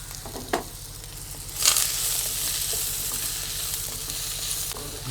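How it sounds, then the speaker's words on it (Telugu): Onions and green chillies fry with mustard seeds and curry leaves in a pan, making a close, continuous sizzle with a few scraping stirs and a sudden burst of crackle partway through, with no voices. "ఆనియన్స్ పచ్చివాసన పోయేంత వరకు దోరగా వేయించుకోవాలి"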